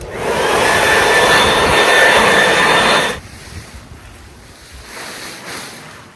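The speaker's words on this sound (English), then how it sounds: "I'm going to use a blower to get any debris off this" A loud leaf blower clearing debris off an above-ground pool cover roars steadily for about three seconds, then cuts off abruptly, leaving faint outdoor background noise.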